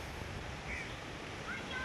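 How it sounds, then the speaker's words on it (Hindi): Steady wind blows outdoors near a river in Phuentsholing town, Bhutan, a continuous broadband rush with low rumbling gusts and faint airy hiss, with no talking. "बस हवा चल रही है मस्त"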